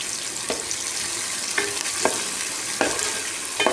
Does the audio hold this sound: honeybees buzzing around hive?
no